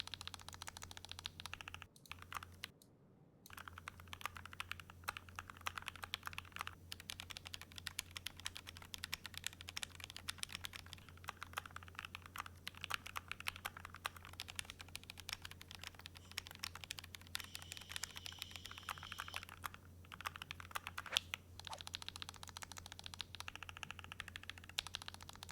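Computer keyboard typed on steadily for a sound test, a continuous close patter of key clicks with occasional louder, deeper space bar strikes standing out, over a faint background hiss and low hum.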